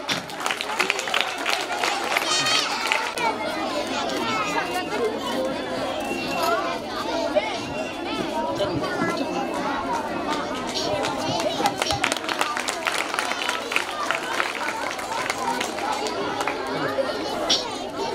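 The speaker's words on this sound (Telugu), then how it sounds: "ఒకసారి క్లాప్స్ కొట్టండి" A school audience claps for the top-ranked students at a results ceremony, a sustained crowd applause mixed with chatter and voices throughout.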